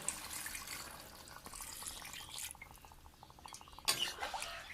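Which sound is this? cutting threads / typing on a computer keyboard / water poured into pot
water poured into pot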